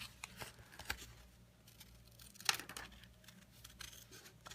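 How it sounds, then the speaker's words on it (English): Paper being fussy cut with small scissors for a handmade Christmas card, a few quiet close snips and light paper rustles with no talking. "just a quick fussy cut of this"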